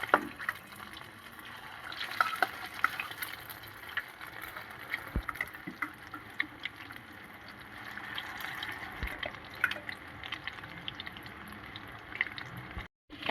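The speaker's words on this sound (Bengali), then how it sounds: "তেলটা গরম হয়ে গেছে, এবার আমি চামচে করে নিয়ে এরকম একটা একটা করে দিয়ে দেবো।" Battered cauliflower pieces with Kashmiri chili powder frying in hot oil for cauliflower chilli, a soft continuous bubbling sizzle with occasional faint pops and clicks, quiet and close, with no talking.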